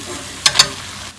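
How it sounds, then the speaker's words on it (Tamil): Cooked rice being stirred into sautéed broad beans in a hot pan: a low steady sizzle with two quick scraping stir strokes close together midway, close and fairly loud, no voices. "இப்போது வடித்த சாதத்தை சேர்த்துக்கிறேன்."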